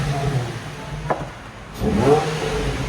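A 2004 Nissan 350Z with its 3.5L V6 and stock exhaust idling with a low hum, then blipped into a short rev that rises and falls, heard from close by.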